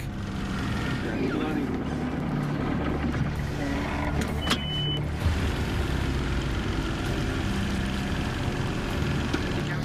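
A motorboat heads out across a lake toward the shallows, its engine a loud, steady, close drone with water and hull noise that runs unbroken throughout.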